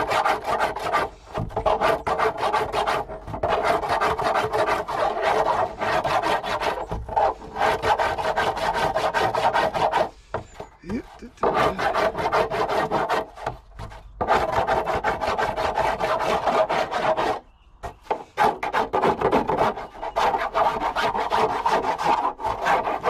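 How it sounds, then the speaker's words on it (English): Steady rasping scrape of a file working the frayed plastic edge of a water butt barrel, continuous strokes broken by a few short pauses, close and fairly loud with no talk. "Just filing off all of that."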